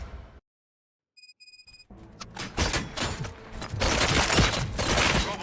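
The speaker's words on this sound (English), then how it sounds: "Gunshots? What's going on?" Gunfire erupts in RoboCop: Rogue City, with a burst of loud cracks and impacts after a short silence, building into a dense, sustained volley of shots.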